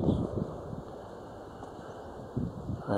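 Wind gusts buffet the microphone at a hilltop viewpoint overlooking islands, a steady low rumble with stronger bursts at the start and near the end.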